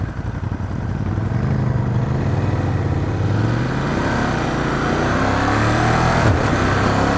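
A motorcycle engine rumbles steadily during a ride, a loud, continuous low drone with gentle shifts in pitch as the bike jolts along, no voices.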